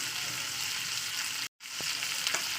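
Cauliflower with garlic paste frying in oil produces a loud, even sizzle from start to finish, interrupted by a split-second silent gap midway, with no voices.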